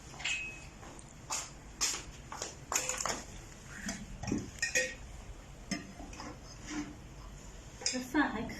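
Cooked rice being scooped from a pot into bowls in a small rented room, with repeated clinks and scrapes of a utensil against pot and bowls and some light, sparse speech in the background.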